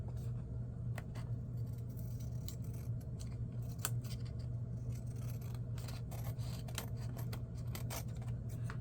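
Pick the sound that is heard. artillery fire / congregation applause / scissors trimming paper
scissors trimming paper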